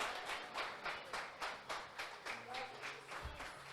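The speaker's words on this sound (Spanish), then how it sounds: "Fuerte ese aplauso al Señor." Church congregation clapping hands together in a steady rhythmic beat, roughly ten even claps, moderately loud and filling the room, with a faint voice underneath.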